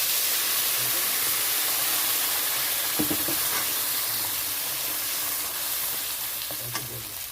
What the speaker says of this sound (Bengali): আর তেলের মধ্যে দিয়ে দিচ্ছি মশলা,